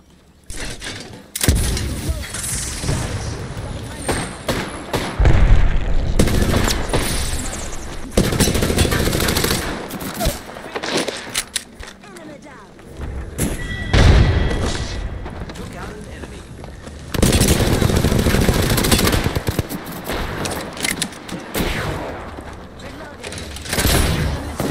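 Video game gunfire crackles in repeated loud bursts and rapid volleys, with some heavier booms, while players talk over the shooting throughout.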